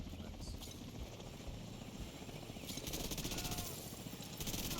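Helicopter rotor thudding steadily in a video game, loud and continuous with heavy low rumble, joined partway through by rapid bursts of gunfire or mechanical clatter.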